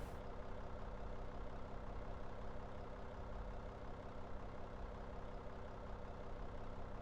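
Steady low droning engine hum from an aircraft pushback truck in the X-Plane 11 flight simulator, a constant idling rumble with no change in pitch, faint and unbroken with no talking.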